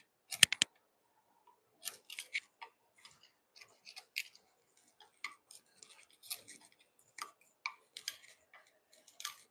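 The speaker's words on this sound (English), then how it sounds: "I'm just taking the side of this chisel to get after that pencil there" A steel chisel scrapes sideways along a wooden board to pare off pencil marks, making a string of short, dry, close-up scratching strokes in irregular bursts, with a sharp tap at the start.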